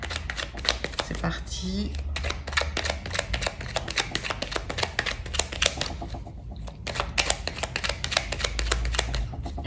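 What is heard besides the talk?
shuffling tarot cards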